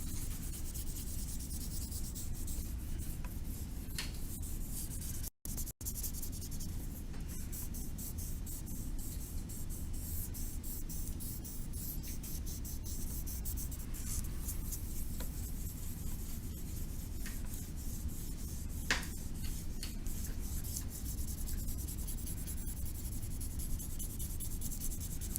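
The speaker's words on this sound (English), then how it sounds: "I'm going to take my paper blending tool, and I can blend it out and make it nice and soft." A paper blending tool rubs charcoal into paper in small circles, a continuous soft scratchy swishing that runs steadily and close for the whole stretch, with one brief gap.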